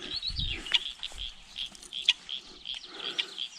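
Near a fishing spot in the early morning, a bird repeats faint, high chirps throughout, with a few sharper notes over low rustling and outdoor background noise.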